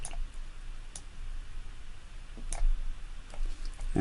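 Sparse mouse clicks at a computer while adjusting a gradient in Google Web Design software, a few sharp isolated ticks spread unevenly over a quiet background.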